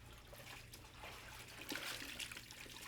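Lightly boiled beef ribs are scrubbed in cold water, producing soft, faint splashing and trickling with occasional rubbing sounds over a low background hum.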